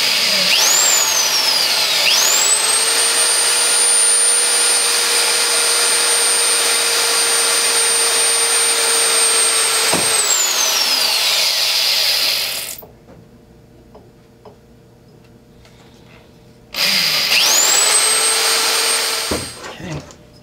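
A power drill drilling holes for roof rack rod clips whines at high speed in long runs, spinning up and winding down, with a quiet pause between bursts; close and loud.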